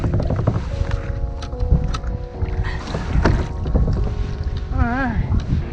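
A kayak is pushed by hand out of mud, with steady close scraping and sloshing across the whole stretch under wind noise on the microphone, plus a brief rising tonal call near the end.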